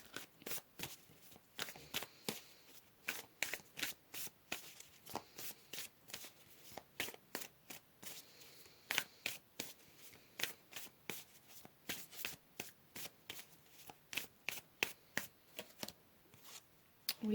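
Oracle cards being shuffled by hand, a long run of crisp riffling bursts in an uneven rhythm, close and fairly quiet, with brief pauses between shuffles.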